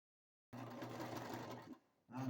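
Sewing machine stitching seams around a fabric bucket hat, a steady close whir running for over a second, then a short pause before the motor starts up again.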